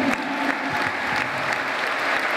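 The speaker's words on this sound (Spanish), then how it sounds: "Aplausos para profesor Vinicio" Audience applause fills a school sports opening ceremony, steady and dense for a couple of seconds, with a faint voice briefly audible underneath.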